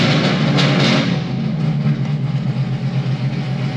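A 1000-horsepower Stage 4 sixth-generation Camaro ZL1 drones loudly and close, its engine note holding a steady rumble with slight dips as it shifts up on its own, no voices over it.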